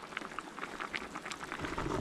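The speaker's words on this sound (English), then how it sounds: "Now that the water is boiling, time to toss in some noodles" Water boils in a pot on a camping stove beside a riverbank, a faint, soft bubbling and popping that continues evenly for a brief moment.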